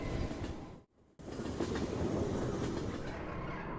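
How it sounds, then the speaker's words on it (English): Continuous rumbling train ride from I Was a Teenage Exocolonist, with clattering rail noise, a brief near-silent gap early on, then a steady roar. "everyone, get on the train!"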